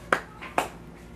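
A baby claps twice, two soft, close taps about half a second apart in a quiet room.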